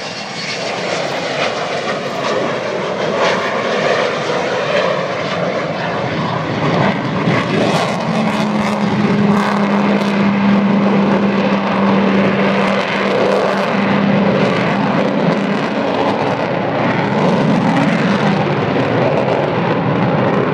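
Avro Vulcan XH558 bomber roaring past on its final pass at an air show, a loud sustained jet-engine rumble that swells and holds steady, with a droning tone rising mid-pass.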